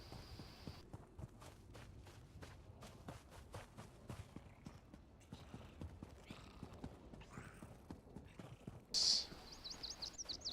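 Horse hooves gallop in Elder Scrolls Online, fast rhythmic clip-clops from a first-person rider, steady and moderately loud, with a brief whinny near the end.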